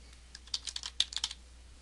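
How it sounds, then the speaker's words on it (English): Quick burst of typing on a computer keyboard, about a dozen light clicking keystrokes in an uneven rhythm, close and fairly quiet with no talk. "In the description text box, type Test."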